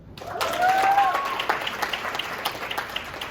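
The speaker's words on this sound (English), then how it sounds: "let's give another round of applause to them" An audience at a pageant claps for the contestants, a dense burst of applause that swells quickly and then thins into scattered claps, with a voice calling out briefly at the start.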